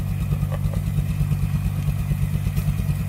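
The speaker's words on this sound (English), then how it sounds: "oh wow, Dave was awful fast with that tractor" A tractor engine running while a wood splitter is being loaded, a steady low throbbing idle with a regular pulse, close and loud, with faint clatter and no voices.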